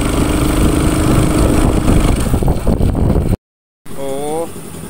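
A Honda Supra X 125 motorcycle with a carburetor fault is revved up close, its engine loud and rough with a snoring, choking tone. Then a brief silence, and the engine resumes with a wavering note.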